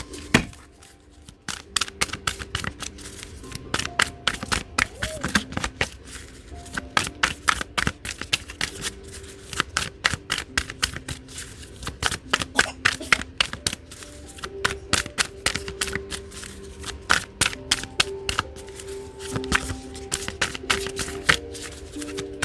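Tarot cards being shuffled at close range, a long run of crisp riffles and flicks in irregular bursts with brief pauses, occasional faint tones in the background and no speech.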